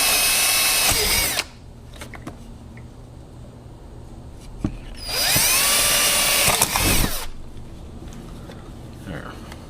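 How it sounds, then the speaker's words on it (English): A power drill whines loudly in two bursts, a short one at the start and a longer one mid-clip, with quiet clicks and handling noise between. "drill a pair of holes instead of one massive one"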